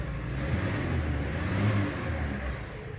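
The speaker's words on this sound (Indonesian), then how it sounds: "Dan kita geber-geber untuk mesinnya." The engine of a 1996 Daihatsu Zebra van is revved repeatedly, a loud, close mid-pitched drone swelling and easing over a few seconds, heard alone with no talk.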